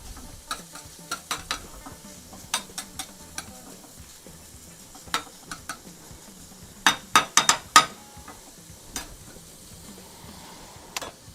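Bacon fries in a pan, a low sizzle under a series of sharp clicks and scrapes of a utensil against the pan, with a quick cluster of louder knocks near the end.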